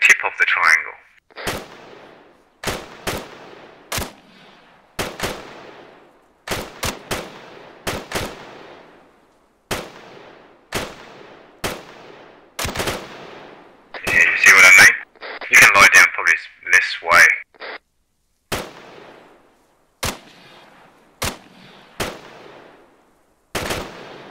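Rifle gunfire from a video game shooting range, with sharp single shots fired at a steady, evenly spaced rhythm, breaking into a denser rapid burst midway, heard over intermittent talking.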